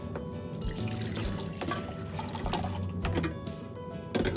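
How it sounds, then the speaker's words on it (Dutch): Water pours from a tap into the reservoir of a filter coffee maker, a close, fairly quiet splashing trickle with small drips and clinks, running steadily throughout. "Als het water in het reservoir doen"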